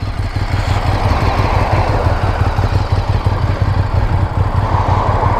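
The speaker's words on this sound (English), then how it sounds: "That is my beautiful white and red Ducati." A white and red Ducati 848 Evo motorcycle engine runs steadily and close by, a loud, continuous low rumble with rapid pulsing throughout, and no voices.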